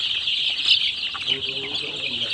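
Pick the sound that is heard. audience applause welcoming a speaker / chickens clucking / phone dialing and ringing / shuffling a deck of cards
chickens clucking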